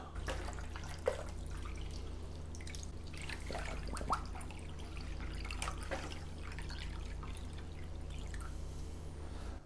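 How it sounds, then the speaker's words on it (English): Water trickles and drips into a cooking pot holding pork ribs, a quiet, irregular pour with scattered splashes and drips over a low steady hum, no talking. "So just keep topping it up with water until your rib is completely covered."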